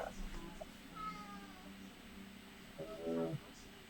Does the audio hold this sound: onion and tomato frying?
no